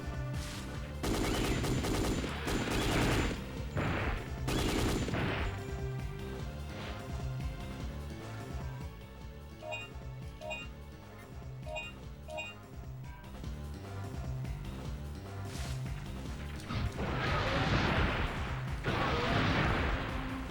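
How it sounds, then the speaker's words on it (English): Heavy blasts of a missile launcher fired at raptors in the video game Dino Crisis 2, loud booming bursts at the start and again near the end, with rumbling game noise and music in between. "I should try to use the missile launcher."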